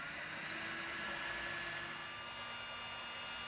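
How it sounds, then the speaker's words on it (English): A heat gun blows hot air steadily onto a cracked plastic pool filter housing lid to melt and weld it, a continuous close whooshing hiss with no talk over it. "we got this heat gun turned on"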